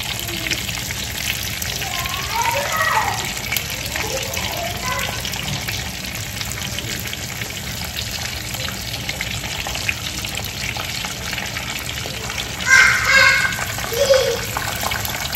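Breaded mushrooms fry in a pan with a steady, close sizzle that runs throughout, a brief louder burst of crackling near the end, and a voice speaking faintly now and then.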